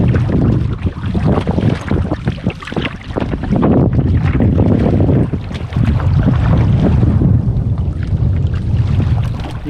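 Wind roars steadily across a northern Ontario lake while a solo canoe is paddled against a headwind, broadband gusting noise filling the whole stretch with dull water sounds beneath and no voices.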